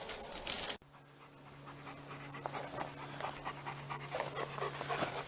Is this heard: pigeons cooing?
no